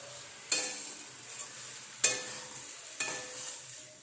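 Mixed vegetables for a Bengali paanchmishali torkari sauté in a pan under a soft, steady sizzle, with three sharp scraping stirs spaced about a second apart.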